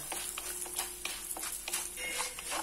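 Ginger and urad dal fry in a pan of oil for Kerala-style veppilakatti, a steady close sizzle with scraping stir strokes, no talking.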